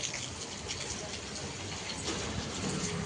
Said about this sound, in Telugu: మంచిగా వర్షం అయితే పడుతుంది